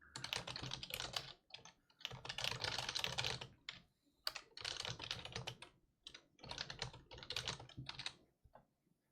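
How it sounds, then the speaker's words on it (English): Rapid typing on a computer keyboard during a coaching session, close and clear, in several bursts of dense key clatter with short pauses between them. "what am I typing?"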